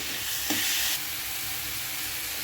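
Tomato masala sautés in a pan, a soft, steady sizzling hiss with a brief louder burst near the start, heard alone without voices.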